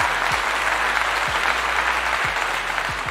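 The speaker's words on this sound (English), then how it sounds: "I got to clap to that." Sustained close clapping from a small group during a comedy talk show, steady and fairly loud, with low thumps recurring beneath it.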